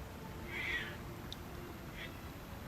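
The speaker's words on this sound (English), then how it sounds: "That is a cat." A single cat meows faintly in a quiet room, one soft drawn-out call followed by a couple of brief weaker sounds over low background hum.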